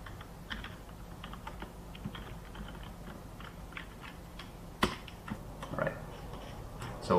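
Keystrokes on a computer keyboard while a MATLAB command is entered, a steady run of light, quiet clicks at close range with a sharper tap near the end, no speech.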